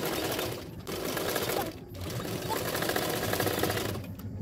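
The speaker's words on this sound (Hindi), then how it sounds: "इसी तरह से फोल्ड करते हुए और एक सिलाई डाल दूंगी।" An electric sewing machine stitches a princess-cut blouse, a steady fast whirring chatter running for several seconds with two brief pauses, close and loud, no one speaking over it.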